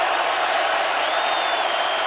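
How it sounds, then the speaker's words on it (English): A packed football stadium crowd roars steadily during a 49ers versus Seahawks game, a loud, dense and unbroken wall of cheering with no pauses. "crowd roaring"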